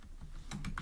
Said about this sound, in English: Next, I will type a suspend function